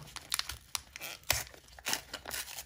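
A trading card booster pack is torn open, a few sharp close rips and crinkles of foil wrapper in quick bursts, quiet and without talk.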